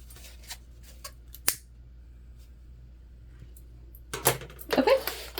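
Scissors trimming fabric for a modified Lindsport Mini Backpack: a lone sharp snip early on, then a quiet stretch before a brief cluster of louder cutting and handling sounds near the end.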